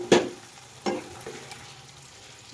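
A dish cooking in a covered pan is stirred: two or three distinct scraping stirs with short bursts of sizzle, then a quieter low frying hiss, fairly close and without talk.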